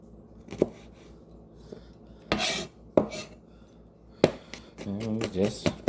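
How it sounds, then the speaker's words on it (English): A knife chops peeled vegetables on a board with a handful of separate, sharp chops and clatter between quieter pauses, and a voice speaks briefly near the end. "And you just run your knife over it. Get kind of like a finer chop on them."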